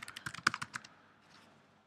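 Quick run of keystrokes as a password is typed on a computer keyboard, about a dozen close, crisp clicks over the first second before the room falls quiet.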